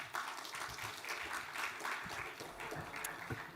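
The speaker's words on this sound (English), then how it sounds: "Big round of applause." Faint, steady applause from an audience at a blockchain congress, a soft continuous patter of many hands lasting a few seconds without a break.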